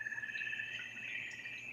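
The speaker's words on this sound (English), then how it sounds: "Those are frog mating calls." Frogs call in a steady, high, trilling chorus at night outdoors, faint and continuous with no voices.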